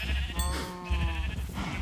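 A single sheep in the Minecraft 1.9 video game gives one wavering, nasal bleat lasting about a second, fairly close and clear, with no talking.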